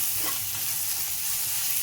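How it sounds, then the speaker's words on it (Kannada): Tempering (oggarane) for dosa batter sizzles steadily in a hot pan with an even, loud hiss and faint stirring. No one speaks. "ಸೊ ಈ ಒಗ್ಗರಣೆ ರೆಡಿ ಆಯ್ತು."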